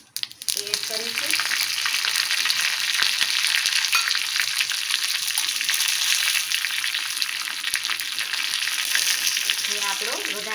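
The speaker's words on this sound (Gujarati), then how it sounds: "જ્યારે રાઈ ફૂટવા માંડશે તલ અને રાઈ ત્યારે આપણે આ લીમડો લઈ લીધો છે, મીઠો લીમડો" Mustard and sesame seeds splutter and crackle continuously in hot oil for a tempering, a loud dense sizzle with scattered pops throughout.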